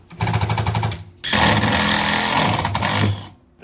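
A power drill driving screws into a wooden skate ramp: two loud, sustained whirring bursts with a rattling buzz, the second longer, close up and without speech.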